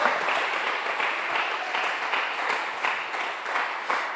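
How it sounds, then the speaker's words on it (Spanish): A congregation in a Sunday church service applauds, with dense, lively clapping from many people holding steady and loud throughout, its rhythm faintly pulsing. "Dale un aplauso al Señor, porque Él es el que vive"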